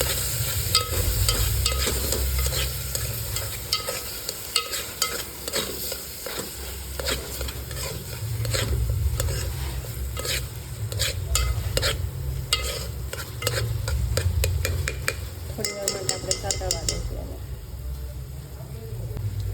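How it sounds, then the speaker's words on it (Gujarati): Onion and tomato gravy with chopped ingredients being stirred and sautéed in a pan for potato bhungla, a steady sizzle with repeated scraping strokes of a spoon, close and continuous; a voice talks faintly beneath at times. "પછી એને અનિવાર્ય મિક્સ કરી દેવાનું અને સાતળવા દેવાનું"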